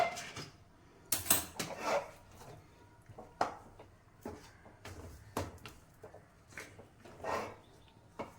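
Upma is stirred in a pot just after the lid comes off, giving irregular scrapes and clinks of a spoon against the metal, fairly close and quiet, with no talking.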